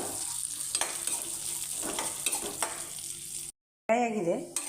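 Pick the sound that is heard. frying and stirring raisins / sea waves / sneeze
frying and stirring raisins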